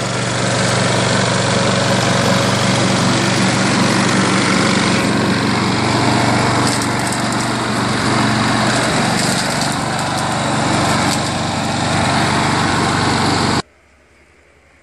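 A Craftsman self-propelled lawn mower with a bagger runs loud and close, its small engine droning steadily for about thirteen seconds before cutting off abruptly into near silence.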